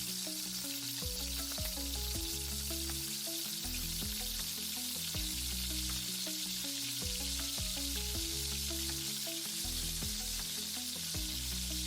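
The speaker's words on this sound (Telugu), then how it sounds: "ఆయిల్ హీట్ అయిన తర్వాత మనం ముందుగా ప్రిపేర్ చేసుకున్న పన్నీర్‌ని ఒక్కొక్కటిగా వేసి 4-5 మినిట్స్ ఫ్రై చేయాలి." Paneer pieces deep-frying in hot oil over a medium flame, crisping into a street-style kurkure snack; a steady, close, continuous sizzle and bubbling with occasional stirring clinks, no voices.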